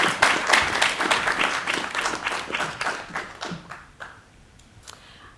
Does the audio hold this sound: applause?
yes